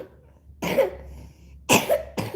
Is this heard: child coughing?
yes